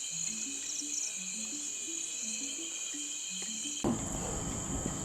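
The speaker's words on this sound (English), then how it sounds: "Grasshopper." Grasshopper chirping in a night-time wild setting, a steady high-pitched trill running throughout alongside a repeating low melodic music pattern, with a louder burst of broad noise near the end.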